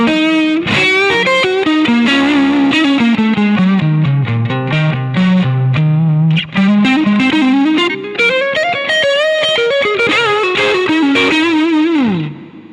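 A PRS Silver Sky electric guitar plays a loud, continuous melodic run through distortion and chorus effects, notes sliding down and back up in pitch with sustained tone and no talking.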